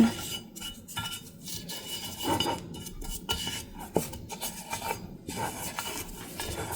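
Kitchen paper rubs oil over a pan's surface in quick, scratchy strokes with a rasping rhythm, some strokes sharper than others and close to the listener, without any voices.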